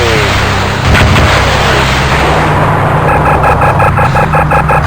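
Bombs dropping and exploding in the Fighters Anthology flight combat game, a loud rumbling blast burst near the start over steady engine drone, followed by a run of rapid repeated pulses.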